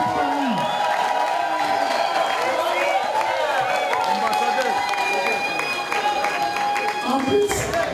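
Applause and cheering from a crowd at a surprise birthday party for someone in Norway, a steady dense wash of clapping with whoops lasting throughout, loud and close, with voices mixed in.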